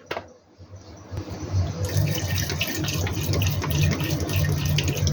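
Water poured from a tap into a pot of mutton for Peshawari namkeen mutton, a steady close rush of filling water that builds and continues without talk.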